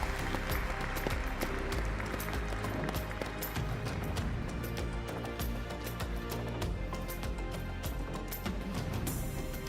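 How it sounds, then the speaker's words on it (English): Audience applause at a conference stage session welcomes a guest joining the panel, with steady clapping continuing over music or low crowd noise throughout. "please give Mansour Al-Mansour a huge round of applause as he joins us"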